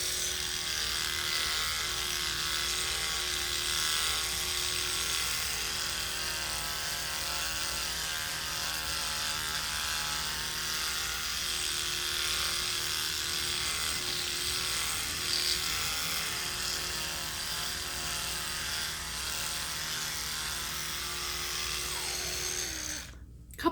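An Oral-B electric toothbrush brushing teeth gives a steady, close, continuous buzzing hum that holds level for about twenty-three seconds and cuts off abruptly at the end.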